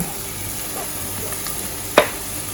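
Onion tipped into a pan of frying saltfish with scallion and garlic, over a steady low sizzle that flares into a brief louder crackle when the onion lands.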